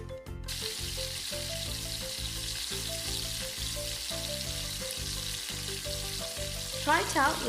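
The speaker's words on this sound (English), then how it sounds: "then we're going to fry them." Breadcrumbed chicken half moon pies frying in oil: a continuous soft sizzle and crackle under louder, steady, rhythmic background music, with a brief stirring swish near the end.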